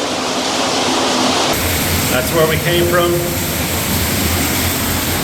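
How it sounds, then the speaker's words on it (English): A full waterfall inside an abandoned mine gives a steady, enveloping roar of rushing water that swells up close, while a person talks briefly over it. "like a full-on waterfall"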